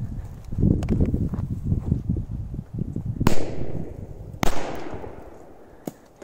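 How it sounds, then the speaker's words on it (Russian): Two sharp firecracker blasts go off under a bowl, loud close cracks a little over a second apart, each trailing a brief ringing clatter, after scattered thumps and handling noise. "Так, специально снял второй взрыв."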